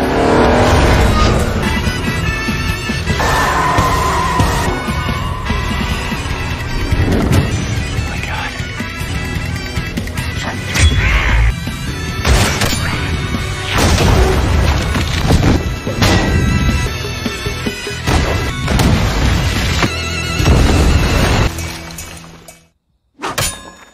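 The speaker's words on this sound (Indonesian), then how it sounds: "dia mencoba menabraknya menggunakan sebuah mobil" A car speeds and crashes into a person in a film action scene, with a loud, continuous roar of engine, impacts and smashing that stops abruptly into silence near the end.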